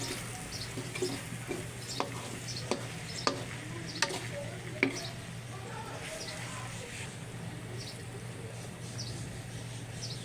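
Pressed dried fish (chapa shutki) cooks in a pan at home, with faint sizzling and repeated scraping stirs of a utensil against the pan under a steady low background hum.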